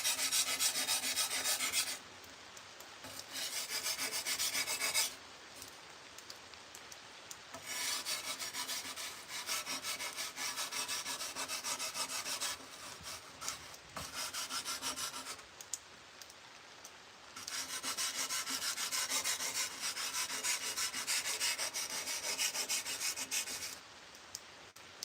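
Sword blade being sharpened by hand, rough rasping strokes in long repeated bursts separated by short pauses, close and fairly quiet with no talking.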